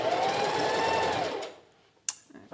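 A sewing machine stitches gathers in fabric at slow speed, a steady close whir that winds down and stops, followed by a sharp click.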